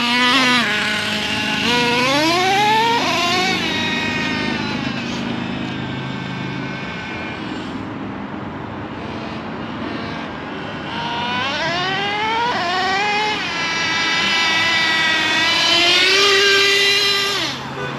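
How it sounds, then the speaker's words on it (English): A worn Traxxas T-Maxx nitro RC truck engine screams up and down in rising, wavering revs, then quietens before revving hard again, loud and nearby with no talking. "You heard it rev up and then shut off."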